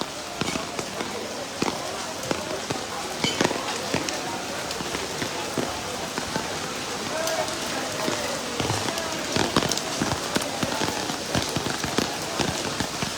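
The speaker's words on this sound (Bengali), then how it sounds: "সিলেটের অবস্থা ভালো না, অনেক বৃষ্টি হইতেছে এখানে" Heavy rain at a cattle market in Sylhet makes a constant dense hiss with scattered sharp drops and knocks, loud and close, with people talking at times.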